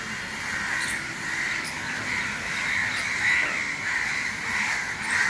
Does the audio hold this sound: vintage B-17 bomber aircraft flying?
no